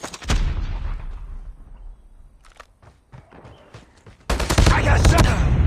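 Gunfire in Call of Duty Mobile multiplayer on the Steel Carnage map with the HBRa3 rifle: a loud opening burst of shots, scattered sharp cracks and footsteps in a quieter middle, then heavy sustained automatic fire to the end.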